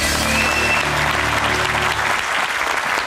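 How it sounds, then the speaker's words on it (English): A TV studio audience gives loud, sustained applause for an inventor being introduced on a show, continuous clapping that fills the room and begins to thin toward the end. "Big round of applause for Dick, please."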